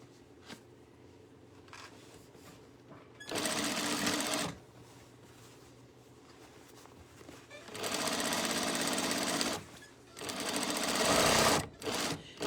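A sewing machine runs in three close, loud bursts while stitching a half-inch seam on a tote bag, separated by quieter pauses with a voice talking.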